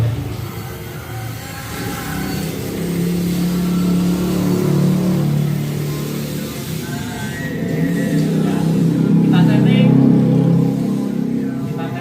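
A 700-watt floor scrubbing brush machine with a gearbox motor turning at 150 rpm, run wet with water, drones steadily and loudly with a low mechanical hum that swells slightly midway, close to the listener with no talk.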